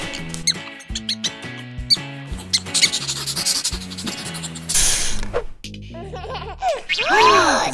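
A voice imitates a mouse with a string of high squeaks, close and fairly loud, following a busy run of other vocal sounds and rustling.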